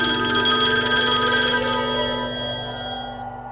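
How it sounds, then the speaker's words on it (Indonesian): A telephone rings at night with a steady, loud, bright electronic trill that holds for about three seconds before cutting off and fading away, heard alone with no voices. "Suara telepon itu terdengar kembali."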